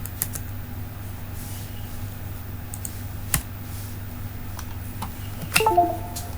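Soft, scattered clicks of computer keyboard keys being pressed, with sparse single taps and a sharper cluster near the end over a quiet, humming room.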